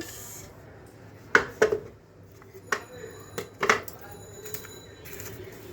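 Coins and cash tipped out of a household savings box give a few sharp clinks and clattering knocks spaced over several seconds, close by, with a quiet room background.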